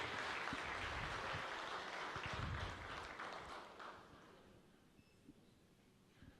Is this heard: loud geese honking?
no